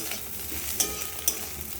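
Pre-fried vegetables tipped into a hot wok and stirred, a brief busy sizzle broken by two sharp metallic scrapes of the spatula, close and fairly loud.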